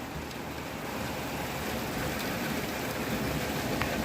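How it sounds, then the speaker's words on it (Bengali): Heavy rain falling in Finland, a steady, even wash of hiss that stays constant and fairly soft, with no voices. "ফিনল্যান্ডে আজকে বৃষ্টি হচ্ছে, প্রচণ্ড বৃষ্টি।"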